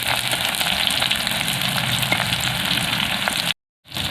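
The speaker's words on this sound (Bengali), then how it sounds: "হালকা জালে এভাবে আমি পাঁচ থেকে দশ মিনিটের মতো ভেজে নেব" Sesame fritters in ash gourd leaves sizzle gently over low heat in mustard oil, a continuous close bubbling hiss that cuts out briefly near the end before resuming.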